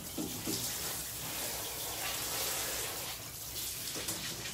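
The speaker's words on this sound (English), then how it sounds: "We're waiting on the water to warm up." Water runs steadily from a tap into a bathtub where a dog waits for a bath, a continuous broadband rush that stays even and fairly close throughout, with no talking.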